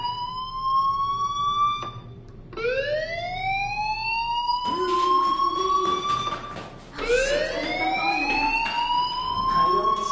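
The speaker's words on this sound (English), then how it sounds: "Hey, do you hear that fire alarm?" Fire alarm wailing in the video game Life Is Strange, rising siren-like sweeps that repeat in long bursts with brief gaps, loud and piercing over a low background rumble.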